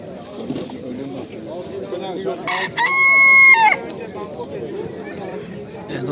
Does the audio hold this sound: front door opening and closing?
no